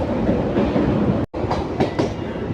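The Kalka-Ambala Cantt passenger train, an unreserved service heading out of Kalka railway station toward Pinjore, rumbles loudly with rhythmic clickety-clack of wheels over rail joints, heard from inside the carriage.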